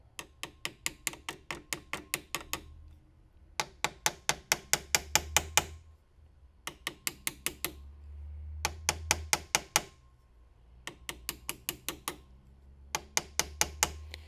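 A hammer taps lightly on a Mauser Gew1898 rifle during conservation work, striking in quick bursts of about six to ten sharp, close knocks separated by short pauses, with no talk.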